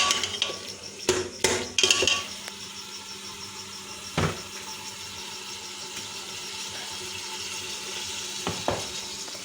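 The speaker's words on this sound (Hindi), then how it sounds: "अब हम जो अपने टमाटर हैं उनको गलने तक जो है उनको भूनेंगे" Tomatoes fry in a pan for kachnar keema, a steady low sizzle running throughout, broken by a few sharp spoon-against-pan scrapes and clatters near the start and again later, with no talking.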